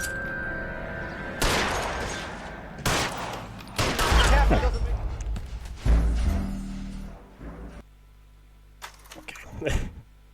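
Gunshots ring out at a suspect during a shootout in the video game LA Noire, several loud close bursts of gunfire with short pauses between them, interspersed with brief in-game voices.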